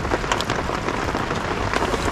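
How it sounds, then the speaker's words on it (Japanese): Heavy rain falling at a campsite in Niigata during a spring solo camp, a loud, dense and steady patter drumming on surfaces with no talk. "なかなかの雨"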